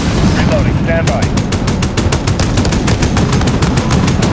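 Rapid automatic gunfire in the video game Call of Duty Modern Warfare, a fast, loud, evenly spaced string of shots that runs for several seconds after a brief pause.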